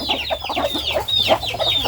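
Chickens cluck in a busy, close flurry of short overlapping clucks and chirpy calls, continuous throughout at moderate loudness.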